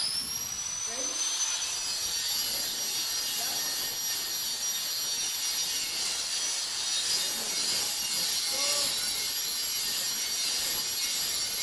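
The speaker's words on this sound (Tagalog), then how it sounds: "So I was able to remove the paint, not exactly the rust, using a portable electric grinder." A portable electric grinder removing paint from rusty metal, a steady high-pitched whine with a harsh abrasive hiss running continuously up close, with faint speech underneath.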